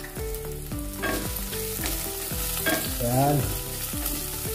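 Ginger being sautéed in a pan gives a steady sizzle and fry, with repeated scraping stirs of the spatula at a regular rhythm close to the pan. A brief spoken word passes over it.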